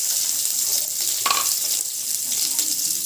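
Onions sizzle in sesame oil in a home kitchen pan while a greens chutney is being made. A steady, bright hiss of frying continues throughout, broken by a few faint stirring clinks.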